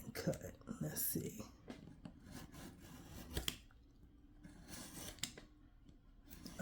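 Scissors snip through paper at a craft table in a few quick cuts, close and soft, while a voice talks quietly over them.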